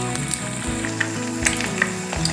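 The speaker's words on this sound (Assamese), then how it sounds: "বাকী থকাখিনিও এনেদৰে ভাজি ল'ম" Egg and onion pakoras fry in hot oil, giving a steady close crackle and sizzle with small pops scattered throughout.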